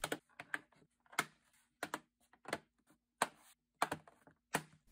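Plastic bottom cover of an Asus VivoBook M515 laptop being pressed into place around its edges: a series of about eight short, crisp clicks and snaps at irregular intervals, close and fairly quiet, with no talking.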